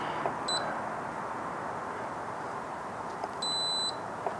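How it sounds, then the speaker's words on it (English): A Spider Grills Venom automatic controller for a Weber kettle sounds a brief electronic chirp, then after a pause a long, steady, high-pitched confirmation beep over a low room hiss. "Press and hold the connection button until you hear a long beep."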